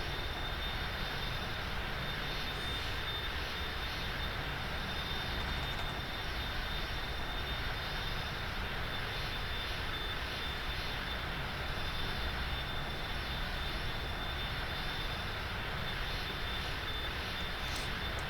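Steady propeller aircraft engine drone from a flight simulator, flying an ILS approach, a continuous even hum held at constant level throughout with no voices over it.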